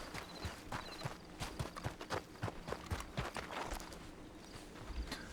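Two horses walk at a steady pace, their hooves clopping in a quick, uneven overlapping rhythm that sounds close but fairly quiet, with faint background noise and no voices.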